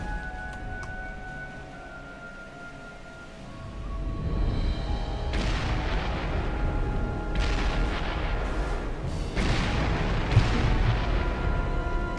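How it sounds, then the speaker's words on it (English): Cannon artillery fire from the Western shooter Call of Juarez: Bound in Blood, in a battle level holding the line after a bridge is blown; heavy booming blasts roll in after a quieter opening, several loud impacts stacked in a continuous rumbling din. "Looks like they're still hitting us with cannons."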